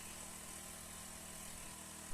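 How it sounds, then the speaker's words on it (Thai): A lawn mower engine converted into a generator for charging a battery runs steadily, a low, continuous mechanical drone heard faintly at a distance with no clear change in pitch. "ทีนี้ผมก็จะทำการสตาร์ทเครื่องนะครับ ปั่นไฟนะครับ แล้วก็เราจะทำการเร่งเครื่องนะครับ"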